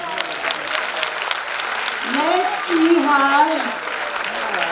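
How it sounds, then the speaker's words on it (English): Parents in the audience at a school silver jubilee celebration applaud the children, steady clapping that runs throughout while a voice speaks over it in the middle. "So please parents, encourage them with your big round of applause."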